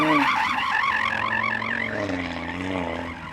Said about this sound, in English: Go on then, Audi, warm up your tyres and try to slide if you can.